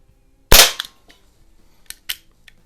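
Crosman 38c .177 CO2 revolver fired once, a sharp loud pop with a quick decay, followed by fainter metallic ticks and two short later impacts from pellets striking plinking targets such as a can.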